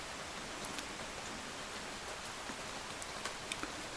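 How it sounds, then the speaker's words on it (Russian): Heavy rain pours down in a steady, dense hiss that covers the whole span evenly, with a few faint sharper drop taps scattered through it and no voices. "В такой дождь."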